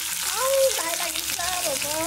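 Two fish heads fry in hot oil in a pan, giving a steady loud sizzle with someone talking over it.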